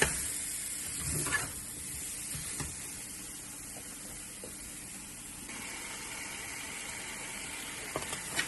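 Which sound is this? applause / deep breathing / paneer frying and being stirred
paneer frying and being stirred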